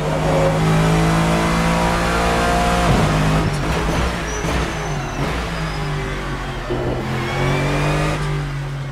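A GT-M race car engine in Assetto Corsa revs hard and climbs through the gears, its steady drone rising in pitch with audible shift breaks around the midpoint, loud and continuous throughout.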